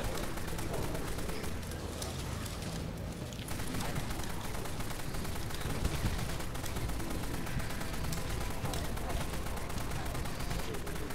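A GAU rotary weapon in the online shooter Dead Frontier fires a continuous, very rapid buzzing stream of shots, steady and dense across the whole stretch, with a voice talking faintly beneath.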